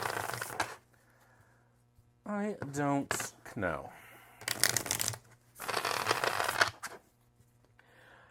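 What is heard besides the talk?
shuffling tarot cards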